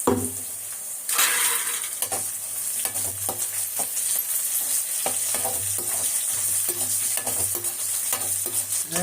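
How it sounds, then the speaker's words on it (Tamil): Bitter gourd sautéing in hot oil for a gravy, with a steady sizzle and repeated scraping stirs of a spatula against the pan, fairly close and loud throughout. "எண்ணெயில் பாவக்காய் வதங்கிறதுலே அந்த கசப்பெல்லாம் போயிடும் பிள்ளைங்களா"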